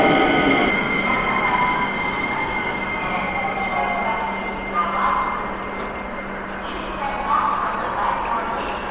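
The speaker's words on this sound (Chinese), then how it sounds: "对面的地铁到了" A Japanese subway train pulls in at the opposite platform, its wheels squealing and carriages rumbling loudly and steadily at close range, with no voices over it.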